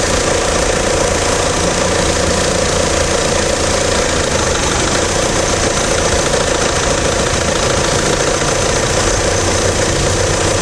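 A GM Vectra engine from the 2.0L 8V or 2.4L 16V family runs steadily during a third fuel injector test, giving a loud, continuous mechanical drone with a knocking texture and no breaks.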